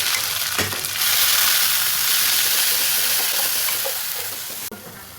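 Ginger-garlic paste hits hot oil for mustard hilsa, bursting into a loud, broad sizzle that holds steady and eases slightly toward the end, with a brief clink at the start.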